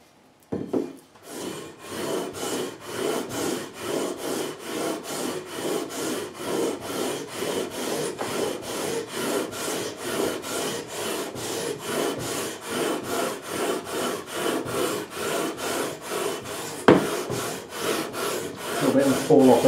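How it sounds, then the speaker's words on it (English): Frets on an Epiphone Les Paul Special II guitar are sanded across with 400 grit sandpaper, making a fast, even back-and-forth rasping rhythm, close and continuous for nearly twenty seconds. "we're going to go across with 400 grit now"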